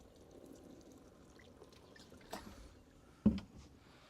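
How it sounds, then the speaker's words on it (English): Water pours gently onto a potted chive plant in a herb and vegetable garden, making a soft, quiet trickle with a couple of louder splashes near the end. "Just gently watering."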